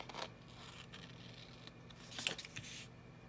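Scissors cut paper in short, faint snips and rustles, close and quiet, with small scraping sounds between the cuts.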